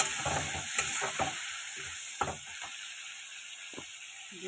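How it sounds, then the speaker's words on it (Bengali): Shrimp fry in hot oil in a pan, with a steady sizzle under scattered scraping stirs and clicks that thin out toward a quieter end, close up and without speech. "চিংড়ি মাছটা একটু ভেজে নেব।"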